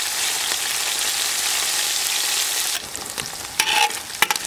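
Loud, steady sizzling of goulash meat searing in a hot pan, then quieter with a few scraping stirs near the end.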